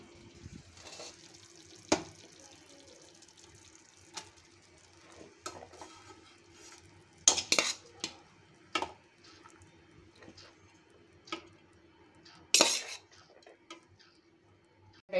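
Tamarind paste being mixed into cooked, separated rice, quiet and sparse with irregular soft scrapes and a few sharper spoon knocks against the vessel.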